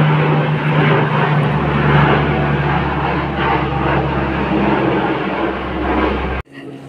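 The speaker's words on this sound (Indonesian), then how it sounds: "Ada pesawat." An airplane flies overhead with a loud, steady engine roar and broadband rush that holds for several seconds before cutting off abruptly, with no voices over it.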